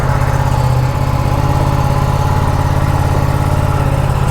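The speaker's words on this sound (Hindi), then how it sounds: "अभी कोल्ड स्टार्ट करते हैं बाइक को" An Aprilia RS 457 motorcycle running after a morning cold start, its engine idling loudly and steadily close by with a continuous low throbbing rumble and no breaks.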